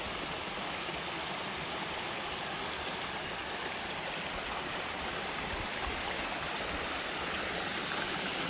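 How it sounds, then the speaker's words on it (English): Steady broadband rush of a waterfall below a hiking trail between Retro Hughes and Rock Creek trailheads, continuous and even, heard from some distance with no voices. "And there's a waterfall down there."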